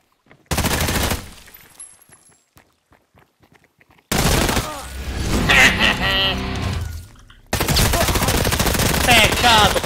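Gunfire in the multiplayer shooter Hired Ops: several loud bursts of rapid automatic fire separated by quieter stretches with faint clicks, close-up and harsh, with a final sustained volley.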